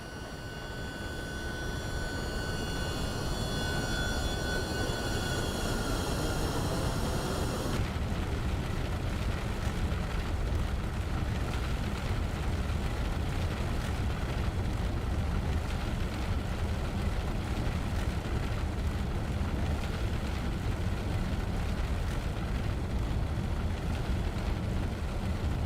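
A simulated RotateSim MD-11 jet airliner in X-Plane 11 climbs after takeoff, with a steady broadband engine roar and rushing wind noise; a high tone at the start cuts off abruptly and the rumble carries on unchanged.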